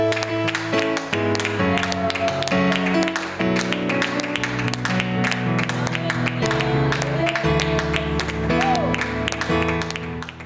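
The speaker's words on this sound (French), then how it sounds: "Joignons nos mains ensemble et acclamons le Seigneur pour sa parole." A church congregation claps hands in a steady rhythm throughout a Sunday service, loud and close, over sung music and voices.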